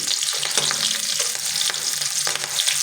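Green chillies cut lengthwise fry in a pan of oil for a roasted poha snack, a loud continuous sizzle with stirring scrapes and crackles, close and alone.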